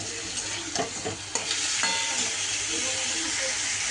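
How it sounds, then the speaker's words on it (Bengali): Jackfruit sizzles in a kadai as a utensil stirs it, with several scraping strokes near the start over a steady, close frying hiss. "একটু আমি কড়াইয়ে নাড়াচাড়া করার পরে এটাকে তুলে রাখবো।"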